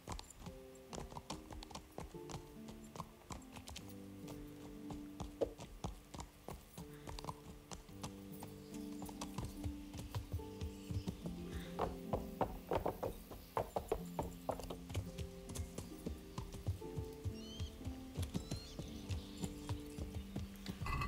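Horse hooves in the video game Kingdom Come: Deliverance, a quick, rhythmic clatter of gallops that grows louder and denser over a soft musical background.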